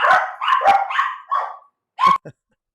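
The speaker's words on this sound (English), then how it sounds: "my dogs are going crazy as you can hear" Several dogs barking in loud, excited bursts, with a quick run of barks followed by a short pause and two final sharp yaps, close by and with no talk over them.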